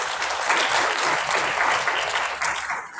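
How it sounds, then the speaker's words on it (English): Audience at a bank results event claps steadily for the group chairman, a dense, even applause sustained at moderate loudness that begins to thin out near the end. "Let's give him a clap."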